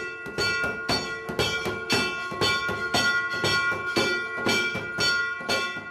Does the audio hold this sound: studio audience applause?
no